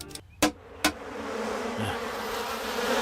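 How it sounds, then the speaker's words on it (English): Steady insect buzzing fills the background, rising slightly over a few seconds, with two sharp knocks near the start. "kill the bees"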